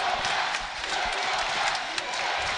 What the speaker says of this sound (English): And this crowd is cheering on the Max right here.